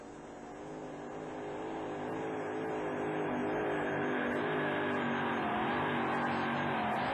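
The monster truck Temporary Insanity makes its run at a 1991 USHRA show in Uniondale, New York, its engine roaring loud and sustained, the revs climbing and holding steady throughout.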